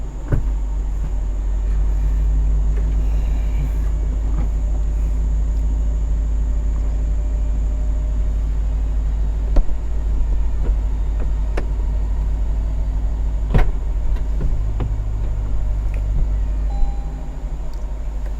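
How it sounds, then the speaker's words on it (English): A Lexus LC500 convertible's roof closes in a long, steady mechanical whir under a low, constant rumble, with a few small clicks and a shift in motor pitch near the end. "To put the top back up, it is a little bit slower."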